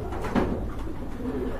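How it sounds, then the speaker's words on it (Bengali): A pair of Shirtin pigeons cooing at close range, low soft burbling coos in a short run, with no talk. "এক জোড়া শার্টিন কবুতর"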